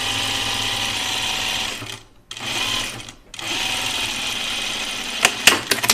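A sewing machine runs steadily, stitching French seams on a Myrna dress, with two brief pauses in the middle and a few sharp clicks near the end; no one speaks.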